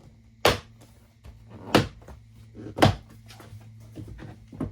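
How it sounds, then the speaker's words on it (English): Three sharp plastic snaps ring out at even intervals, close and crisp, followed by a few softer clicks, as front door panel clips engage on a 2019 Infiniti QX60. "Push on each side and you will hear clips as they engage."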